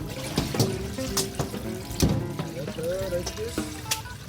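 Tsukemen noodles being rinsed under a running kitchen tap, with a continuous close splash of water and scattered clinks and knocks from the sink.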